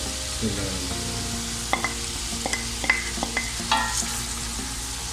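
Tomatoes and spices fry in a karahi for chicken Afghani karahi while a spoon stirs through them, with a soft sizzle and several distinct scraping strokes against the metal. The stirring is close and clear, and no one talks.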